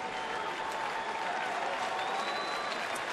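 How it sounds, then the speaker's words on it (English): A baseball crowd at Turner Field in Atlanta, during a Phillies–Braves game, applauds steadily and densely throughout, a continuous wash of clapping and cheering. "Listen to the crowd at Turner Field."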